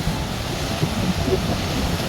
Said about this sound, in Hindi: यहाँ समंदर की लहरें बिल्कुल करीब करीब हैं।